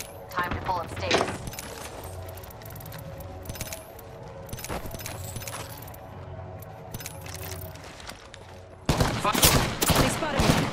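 Gunfire in a battle royale video game during a squad match, rapid bursts of shots and fusillades under steady game noise, with a loud volley of shots near the end.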